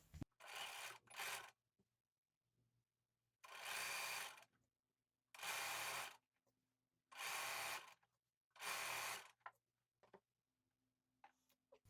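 A sewing machine runs a straight stitch around the edge of a jersey T-shirt in several loud, even bursts of rapid whirring, broken by quiet pauses and faint handling sounds.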